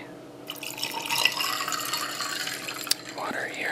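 Water is poured into a bartender's mixing glass packed almost full with ice, trickling and splashing close up as it settles among the cubes, with a few sharper clinks.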